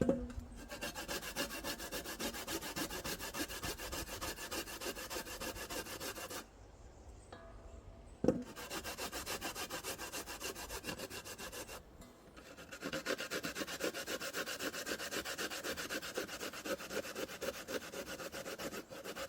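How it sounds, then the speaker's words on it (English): Pumpkin being grated outdoors for Jamaican dumplings, a steady rhythmic rasping of flesh against the grater that pauses briefly midway, then resumes close and alone. "when I grate up the pumpkin now"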